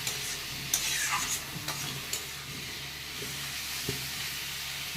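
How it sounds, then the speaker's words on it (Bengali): Food fries in a pan with a soft steady sizzle, while a utensil scrapes and stirs in several distinct strokes near the start and a few lighter taps later. "আর এটা একটুখানি দেখি ভাজা ভাজা করে"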